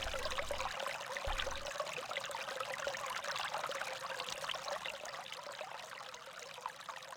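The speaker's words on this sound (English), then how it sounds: "As I fill the pail with hot water" Hot water pours into a pail in a video game, a steady trickling stream running continuously from start to finish at a moderate, even level.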